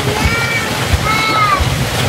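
Steady rain splashes and patters nearby, a continuous wet hiss beneath people talking in the foreground.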